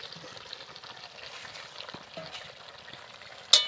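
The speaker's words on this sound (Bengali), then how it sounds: "ঢাকা খুলে আবারও নেড়ে চেড়ে দিচ্ছি" Chicken curry with potatoes stirred in a pot, a soft simmering sizzle with light scraping strokes and a sharper clatter near the end.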